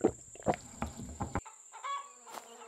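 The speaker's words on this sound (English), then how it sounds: "Looks like we have four chickens that are active." Farmyard chickens cluck in the video game Farmer's Life, with several close, short, choppy clucks in quick bursts and then a softer call.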